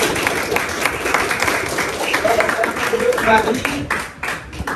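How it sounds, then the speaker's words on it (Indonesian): A group clapping continuously in a dense, uneven patter with voices mixed in, fading slightly at the end. "tepuk 3 kali, tepuk berkali-kali"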